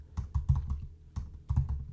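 Keys clatter on a computer keyboard as a Linux command is typed, two quick bursts of close, crisp clicks separated by a short pause.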